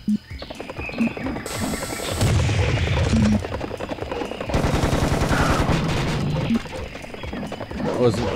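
Rapid gunfire from Serious Sam HD, loud bursts of automatic shots with booming hits in two long sustained stretches, close and heavy over game action.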